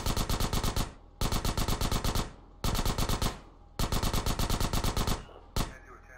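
Rapid automatic gunfire in GTA San Andreas rattles out in five loud, tight bursts separated by brief pauses, ending with a single shot.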